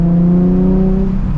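A 2007 Nissan 350Z HR accelerates hard, its engine note climbing steadily in pitch as it pulls through the gear, loud and close from start to finish, then briefly dipping before the revs settle.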